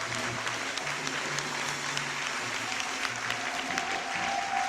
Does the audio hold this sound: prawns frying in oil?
no